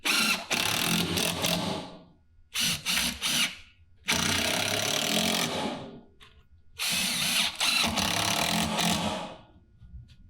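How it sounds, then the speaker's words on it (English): A power drill drives drywall screws through a board into a stage platform leg in four bursts, each whirring up loud and close before stopping, with brief quiet gaps between. "I can screw through with drywall screws or construction screws straight through the outside into my leg"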